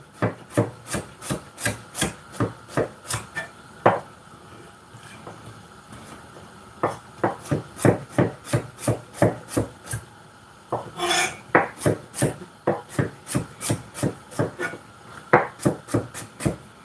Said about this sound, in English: I'm gonna slice the garlic